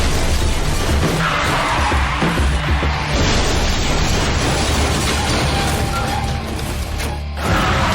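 A race car skids on a wet track and crashes into a track worker, a loud sustained rush of tyre and engine noise with scraping and a heavy impact near the end, no talk.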